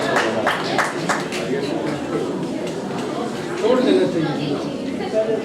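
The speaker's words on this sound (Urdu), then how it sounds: "بھرپور تالیوں سے استقبال کیجیے" An audience at a Pakistani mushaira claps in welcome for a poet, a brief patter of applause at the start that fades under crowd chatter and talking.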